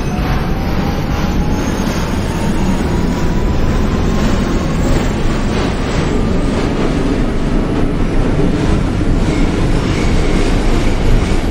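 R40 Slant subway train on the F line in the OpenBVE train simulator game, running steadily with a loud, continuous rumble and rail noise, a faint rising motor whine and light clickety-clack throughout, no talk.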